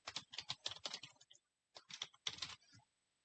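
Korean text typed on a computer keyboard in a PowerPoint lesson: quick runs of close, crisp keystrokes in two bursts with a short pause between them, no voice heard.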